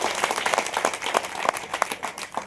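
Quick hand claps in an uneven run, a dozen or so sharp slaps close by, moderately loud with no talking.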